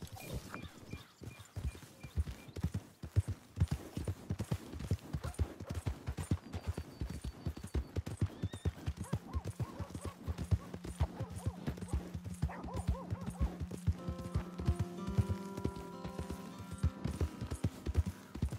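Horse hooves clip-clop in a steady, close trotting rhythm through the whole Red Dead Redemption 2 game scene, loud and continuous, with a sustained tonal sound joining in partway through.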